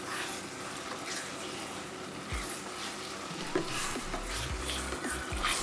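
Ayamase stew with added salt being stirred in a pot, a steady sizzling fry with scraping spoon strokes and a few clinks, close and continuous with no talking.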